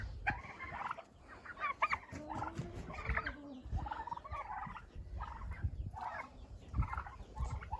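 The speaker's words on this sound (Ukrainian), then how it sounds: "Це наші індюки" Several turkeys gobble in repeated bursts close by, with clucking fowl and other farmyard bird calls mixed around them.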